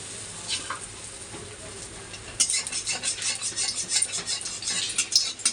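Malpua batter dropped into overheated oil: a soft, quiet start, then an abrupt burst of bright, bubbling sizzle that keeps crackling and fluttering close up.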